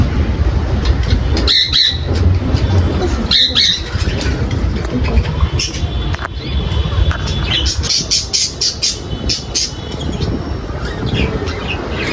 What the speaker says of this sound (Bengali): এখানে আমাদের পাখিগুলো আছে এই যে টিয়া পাখি